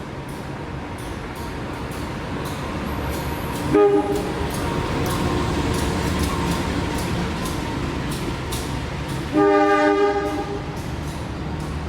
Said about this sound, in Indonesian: Yang masuk kereta Penataran nih.